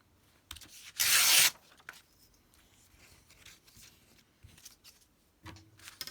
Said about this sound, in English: So let's tear that down.